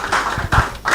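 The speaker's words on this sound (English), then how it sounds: "Please, a round of applause for our CRO." A few claps from an audience greeting a chief risk officer at an investing event, brief and close, in quick uneven bursts.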